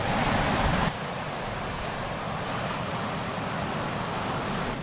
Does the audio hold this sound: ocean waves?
yes